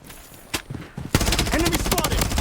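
Rapid machine gun fire in a shooter video game, a few scattered shots at first, then a sustained loud burst of automatic fire that runs to the end.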